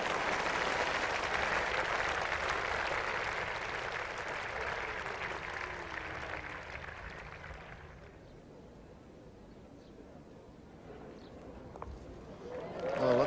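Cricket crowd at an England vs Australia Test match in 1977 cheering and applauding a fast boundary four, a broad loud roar that holds steady for several seconds, then fades to quieter murmur before rising again.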